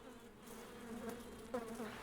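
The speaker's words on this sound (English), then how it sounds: "We hear about bees all the time these days." Honeybees buzz around a hive in a Paris park, a continuous faint drone with individual bees passing close now and then.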